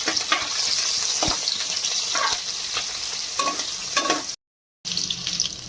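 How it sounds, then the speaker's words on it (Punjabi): Whole coriander seeds, three chillies and garlic roasting in a pan for Punjabi-style baingan bharta, with a continuous sizzle and intermittent stirring scrapes, a short silent gap near the end, and no talking. "ਇੱਕ ਸਾਬਤ ਧਨੀਆ ਤਿੰਨ ਮਿਰਚਾਂ ਵਾ ਤੇ ਲਸਣ ਇਹਨਾਂ ਨੂੰ ਭੁੰਨਣਾ"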